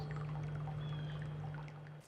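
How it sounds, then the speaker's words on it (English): Water cascading over the Mineral Springs Waterfall in a state forest makes a steady, unbroken rush with a low hum beneath it, continuous and moderately close, with no voices. "The water that cascades over the Mineral Springs Waterfall flows from deep below the floor of the Cheyenne State Forest"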